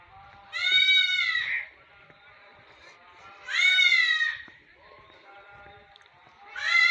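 Goats in a village lane bleat loudly and close by, three drawn-out wavering calls spaced a few seconds apart over quiet background.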